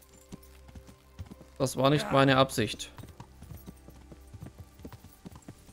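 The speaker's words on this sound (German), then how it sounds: "Pferd zu mir." Horse hooves clip-clop steadily in the medieval game Kingdom Come: Deliverance, a regular close rhythm throughout, while someone speaks German briefly over the middle.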